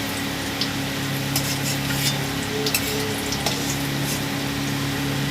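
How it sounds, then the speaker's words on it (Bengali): Fish roe fritters frying in hot oil in a wok, a steady close crackling sizzle with small pops and stirring clinks throughout, no voices. "দেখুন আমি এইভাবে বড়াগুলো ভেজে তুলে নিয়েছি"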